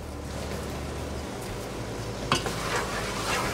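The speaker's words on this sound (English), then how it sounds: "So I'm gonna mix everything here." Sweet potato and green onions are stirred in a pan, with a low steady sizzle, a low hum early on, and a few scraping clatters of the utensil against the pan.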